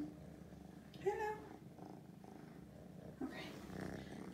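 A Siamese kitten purrs softly on a lap indoors. The low purr is faint and runs on under quiet, scattered human sounds and small movements.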